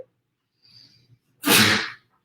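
A brief faint intake of breath followed by one sharp, loud sneeze, then quiet.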